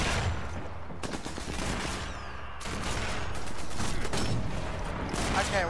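Gunfire from the shooter game Sniper Elite rings out as repeated sharp shots and bursts, some in rapid automatic volleys, loud and close throughout with brief gaps between salvos.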